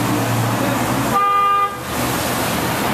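A car horn toots once in a steady sustained blast lasting about half a second, loud and close, set against a constant rumble of road traffic.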